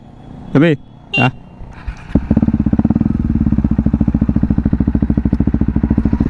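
A black KTM Duke 390 fitted with an aftermarket exhaust fires up after brief talk, then settles into a loud, close, steady idle with a rapid throbbing beat.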